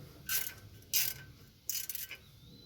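A ratchet wrench clicks on the water pump bolts of a small block Chevy, three short close bursts of rapid ratcheting separated by brief pauses, quiet and without talk.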